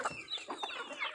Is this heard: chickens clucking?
yes